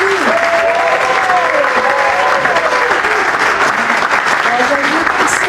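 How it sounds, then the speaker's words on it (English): Loud, sustained audience applause at a city township honoring ceremony, thick continuous clapping with cheering and raised voices woven through it. "Mr. Thomas another round of applause."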